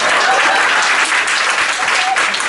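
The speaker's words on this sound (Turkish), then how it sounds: "Alkışlayın ya!" Loud, dense applause from a stand-up comedy audience fills the room steadily, with a few voices faintly audible underneath.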